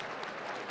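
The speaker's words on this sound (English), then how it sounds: "They're barely applauding for that one." Scattered, thin applause from a sumo crowd at the Kyushu basho after a henka, faint and steady for under a second with no voices over it.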